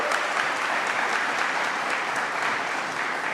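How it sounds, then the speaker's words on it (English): Applause from an audience at a state budget event on mental health, a dense, even burst of many hands clapping that carries on steadily without pause. "Let's give a round of applause to Dr."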